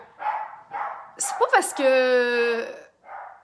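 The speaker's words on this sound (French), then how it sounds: "mes chiens jappent" Pet dogs at home bark and yip in a few sharp, close bursts, one ending in a rising whine, while a person talks before and after.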